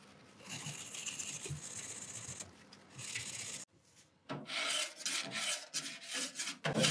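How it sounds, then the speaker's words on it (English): Steel wool scrubbing through stripped car paint and spray putty: continuous close, harsh rasping strokes with a short pause midway, then more vigorous scrubbing. "steel wool scrubbing through the spray putty"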